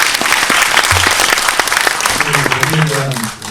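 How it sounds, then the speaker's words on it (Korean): Cinema audience applauding at a post-screening Q&A for a documentary film in a CGV theater, a steady wash of many hands clapping close and loud, with a low voice speaking briefly underneath toward the end. "박수 한번 부탁드립니다."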